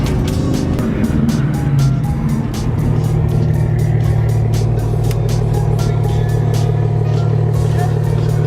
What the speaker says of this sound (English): This is doing reverse donuts in the Mini.